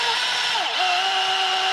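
A power drill whines steadily up close while widening two bolt holes in a wing mount for an Arrma Kraton 8S EXB RC car, with a brief dip in pitch partway through.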